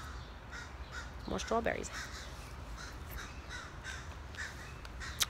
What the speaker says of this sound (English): Did you guys hear that crow?